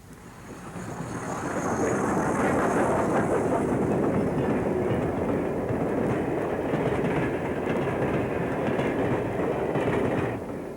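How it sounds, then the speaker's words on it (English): A westbound steam train rumbles steadily nearby with a rhythmic clatter, approaching the water tank and junction at Dale Creek on Sherman Hill, rising from quiet to a loud, sustained roar before easing slightly at the end. "a train westbound on the new line approaching the water tank and junction at Dale Creek"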